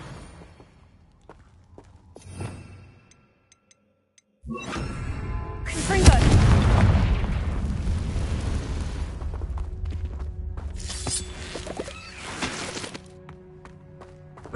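A Confringo explosive spell from Hogwarts Legacy bursts with a sudden loud broadband blast that swells and rumbles for several seconds, then fades, amid game effects with speech nearby.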